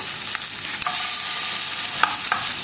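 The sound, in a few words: shallots and sliced garlic sautéing in gingelly oil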